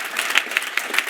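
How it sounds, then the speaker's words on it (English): Conference audience applauding, a dense wash of many hands clapping at close-to-mid distance with small rhythmic peaks, steady and fairly loud throughout. "You can clap now, everybody."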